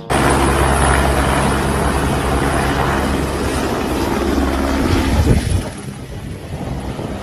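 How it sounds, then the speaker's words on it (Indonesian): A toy helicopter whirs loudly and steadily for about five seconds, then cuts off abruptly, leaving a quieter background. "Wow, ini ada helikopter."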